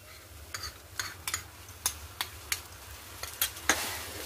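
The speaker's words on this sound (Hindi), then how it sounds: "इसे डाल करके मसालों के साथ अच्छे से मिक्स कर ले।" Curd stirred into frying masala for shahi paneer: a spoon scrapes the pan in regular strokes, about a dozen soft knocks, over a constant low sizzle close by, with no voices.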